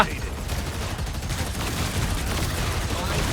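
Gunfire in the video game Marvel Rivals, a continuous dense burst of rapid shots lasting a few seconds amid game effects, with a voice talking over it.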